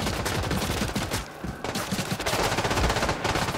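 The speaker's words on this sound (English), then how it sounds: "I think they're using incendiary bullets." Rapid, dense automatic gunfire from The Division 2 at the Roosevelt Island stronghold, incendiary rounds cracking in loud sustained bursts with a short pause partway, close and overlapping, no voices.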